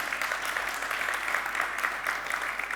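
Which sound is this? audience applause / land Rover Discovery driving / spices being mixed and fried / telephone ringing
audience applause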